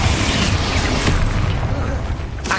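A Confringo fire spell from the Hogwarts Legacy video game bursts in a dense, loud boom that fills the whole stretch, with rumbling low-end energy and a brief extra swell near the middle before trailing off.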